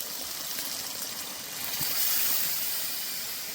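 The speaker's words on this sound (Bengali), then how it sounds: "ভালো করে সয়াবিন কষে নিয়েছি, এবার জল দিয়ে দেব।" Hot water is poured into a pan of frying soybean curry, a broad rushing hiss that swells as the water hits the hot pan, close and steady.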